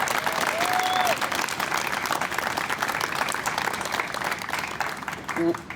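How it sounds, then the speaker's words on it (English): A crowd applauds with dense, sustained clapping that slowly fades, with a voice and a cheer heard briefly over it. "Let's give her a big round of applause."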